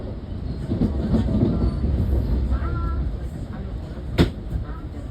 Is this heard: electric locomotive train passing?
yes